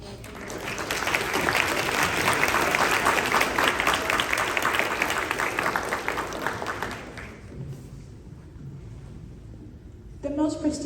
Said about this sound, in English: Let's give all of these participants a big round of applause for all their hard work.